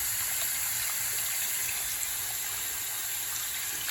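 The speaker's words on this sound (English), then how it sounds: "Let's open up the hot water, which is cold." Water running from a hot water tap in a home bathroom or kitchen, a steady, loud hissing rush that continues unbroken the whole time, with no talking over it.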